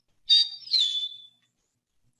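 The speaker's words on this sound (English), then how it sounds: "the eastern meadowlark has a shorter kind of two-whistle call" An eastern meadowlark gives its short two-part whistled call, two clear, high, sliding notes in quick succession, near and distinct, followed by silence.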